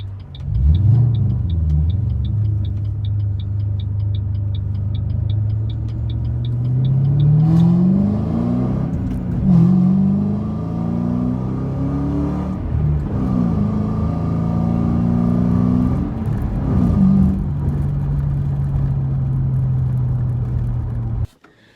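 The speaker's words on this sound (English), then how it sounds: "I'm going to show you speed shifting." Car engine revving hard as the driver speed shifts, pitch climbing through repeated rising sweeps with brief dips at each quick gear change, loud and close from inside the car, then settling to a steady cruise.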